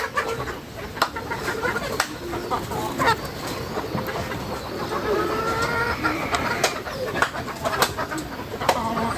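Hens call in a poultry yard around egg-laying time, a mix of clucks and coos repeating at close range over steady background noise, with faint human voice now and then.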